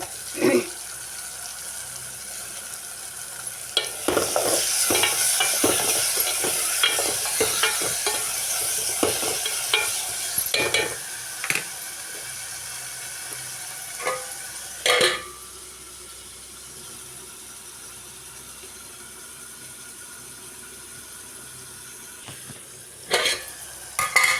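Tomatoes, onions and green chillies sizzle in a pan for a tomato and broad bean curry, with a steady low frying hiss broken by occasional stirring scrapes and clinks.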